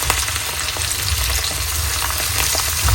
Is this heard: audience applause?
no